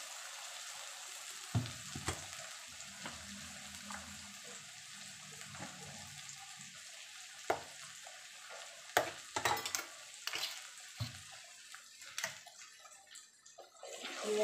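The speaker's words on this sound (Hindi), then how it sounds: "थोड़ा सा भून लें इसको" Ginger and garlic frying with spicy red chili powder in a pan for prawn masala, giving a steady sizzle with occasional stirring scrapes and clinks throughout, no talking.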